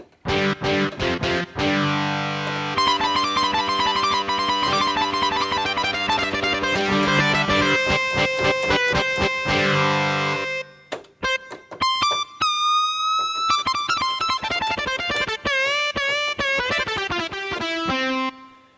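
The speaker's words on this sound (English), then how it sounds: "It's the distorted guitar." Distorted electric-guitar tones from a Casio WK-7600/CTK-7200 keyboard patch play chords and short melodic runs, steady and fairly loud, with a brief pause near the middle.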